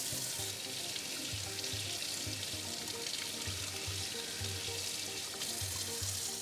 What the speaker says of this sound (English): And we could run this under cold water.